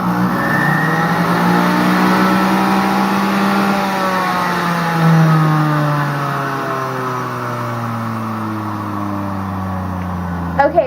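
A Kitchen Living juice extractor's motor runs empty on level 1, giving a loud, close whine that slowly drops in pitch as it winds down over several seconds.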